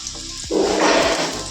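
Rohu fish for a spicy fish curry goes into hot oil in a home kitchen: a quiet moment gives way to a sudden, loud, sustained hissing sizzle that lasts about a second.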